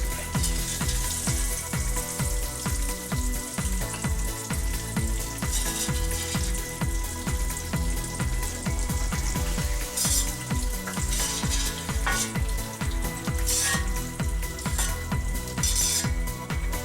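Crispy pork frying in oil and being pushed to one side of the pan to drain, a steady close sizzle with bursts of spatter and occasional scraping, running continuously with no voices.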